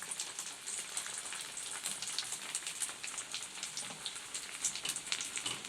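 Sago vadai, made from javvarisi, fry in hot oil with a steady, crackling sizzle like light rain, close and fairly quiet, with no voices.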